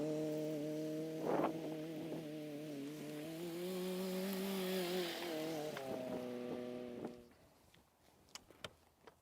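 Used Hymer motorhome engine running as it is driven out, a steady droning hum with shifting pitch that fades away near the end, leaving a few faint clicks and thumps.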